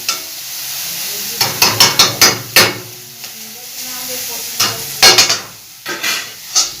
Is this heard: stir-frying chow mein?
yes